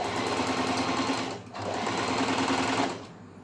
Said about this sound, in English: I'm just trying to use the machine, just checking if it's working well or no, the motor and the stuff.